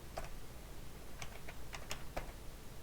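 Quiet, close typing on a computer keyboard while entering a spreadsheet function, a handful of irregular soft key taps spread over a few seconds with no talk.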